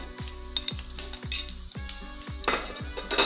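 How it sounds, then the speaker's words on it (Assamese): Cumin seeds and black pepper sizzle in hot oil in a pan, with steady frying crackle and repeated low knocks and scrapes of a spoon stirring, close and moderately loud, no voices. "তেলটো গৰম হৈছে আৰু জিৰা, জালুকটো দিছোঁ"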